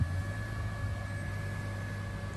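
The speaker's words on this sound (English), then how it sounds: "Apologize about the fan noise, but it is what it is." Steady, faint fan noise from a vehicle's air conditioning in an 80 Series Land Cruiser hums as a constant broadband whoosh with a low tonal drone, no talking heard.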